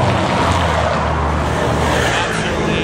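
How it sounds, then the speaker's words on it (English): Cars rush past at speed on the narrow Appia Antica road, a loud continuous wash of tyre and engine noise close by with no pause between vehicles. "These cars come zooming by."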